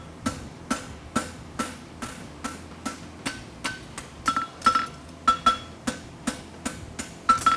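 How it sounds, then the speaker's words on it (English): A blacksmith hammers a horseshoe on an anvil with steady, evenly spaced ringing strikes, about two per second, loud and close, each blow bright and metallic with a short clinking ring. "come off the anvil and flatten it like this, like it's already a wedge"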